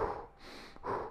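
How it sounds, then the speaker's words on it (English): Shallow, quick breathing during a lower-body ab exercise: two short, close, breathy exhalations a fraction of a second apart with a softer breath between, and no talking. "Shallow, quick breathing."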